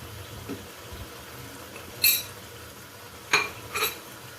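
A spoon clinks against a bowl a few times as ground red chilli, dried coriander and cumin are stirred together, sharp light taps separated by quiet pauses.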